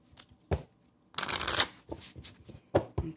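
Oracle cards are shuffled by hand close up, with a quick riffle in the middle and soft taps, slaps and flicks of the deck around it.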